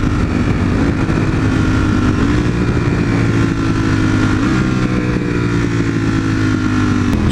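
A motorcycle engine roars loudly and continuously, pitch climbing and dropping in steps as it shifts up through the gears, close and steady throughout.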